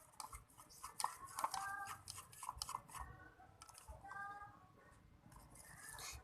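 No-glue slime being stirred in a container, with rapid clinking and scraping of a utensil against the bowl in irregular bursts, fairly close and quiet.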